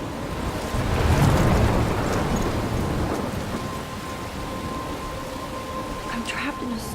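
Stormy weather in the video game Life Is Strange: steady heavy rain and low rumbling thunder swelling early and rolling on throughout, with brief faint speech-like sounds mixed in.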